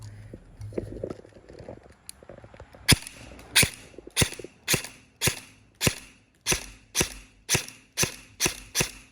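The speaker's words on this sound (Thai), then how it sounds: "เดี๋ยวไม่รู้ว่าลูกเหอหรือลูกมุดเดี๋ยวลองยิงดูก่อนเนา" A Double Bell M4 airsoft rifle fires a steady series of about eleven sharp, evenly spaced shots on a 40-metre range, each crack ringing out loud and close after a stretch of quieter handling noise.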